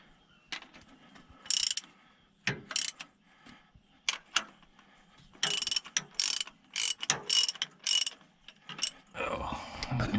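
A ratchet tightens bolts to draw up the draft arm bushing seals on a 2955 tractor. Close, quick bursts of metallic clicking and ratcheting are separated by short gaps, with a brief rustling clatter at the end.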